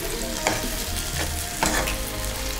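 Tomatoes frying in a pan for gravy, a continuous close sizzle broken by a few louder stirring scrapes, with no one speaking.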